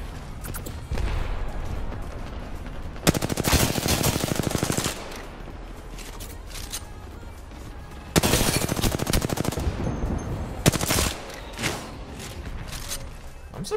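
Loud bursts of rapid automatic machine-gun fire in a shooter video game, two long sustained volleys and shorter bursts separated by quieter stretches of game ambience, no talking.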